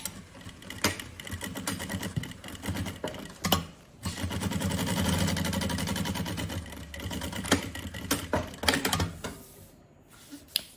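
A sewing machine topstitching fabric to a lining for a bunny backpack runs in rapid mechanical bursts, a long steady run in the middle, broken by short pauses and clicks, close and fairly loud.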